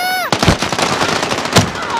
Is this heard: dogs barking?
no